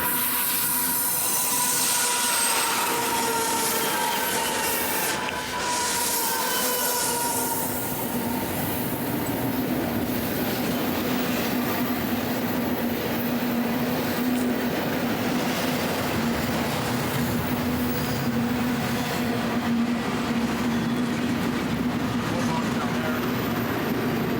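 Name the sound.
freight train passing on tracks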